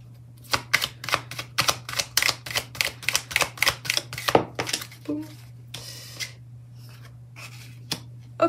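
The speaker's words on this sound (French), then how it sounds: "je tire les cartes et puis je vous dis après" Tarot cards being shuffled and drawn, a quick run of crisp rhythmic flicks and slaps over a steady low hum, then a few scattered softer card sounds as it trails off.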